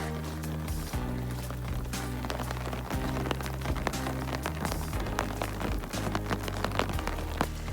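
Rain cascading down a hiking trail on the Colorado Trail, running like a small mud flow: steady close rushing water with scattered drips and taps, continuous and fairly loud throughout, with no talk.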